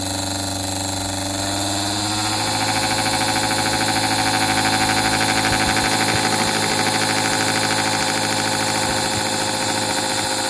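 A restored American Flyer model diesel locomotive, a Northern Pacific unit, runs its motor. A loud, continuous electric whine and hum with a rising tone early on holds steady, with faint rattling underneath.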